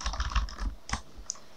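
Rapid keystrokes on an English computer keyboard, a quick irregular run of close, soft clicks and taps followed by a few isolated presses.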